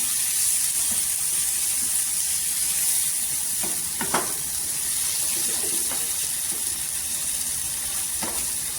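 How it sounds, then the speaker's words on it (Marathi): Spice masala sizzles and fries steadily in hot oil for a fish-and-raw-mango curry, a continuous close hiss broken by a few sharp spatters and stirring scrapes, with no talking. "हा मसाला पूर्णपणे तेलावर परतून घ्यायचा"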